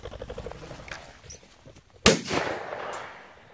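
A single sharp shotgun blast rings out while hunting birds in open country, loud and close, followed by a brief rolling echo after a quiet moment.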